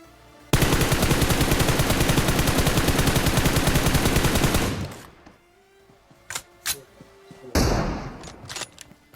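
Gunfire in the mobile battle royale game BGMI: a loud, sustained burst of rapid automatic fire lasting about four seconds, followed by scattered sharper shots and a short second burst.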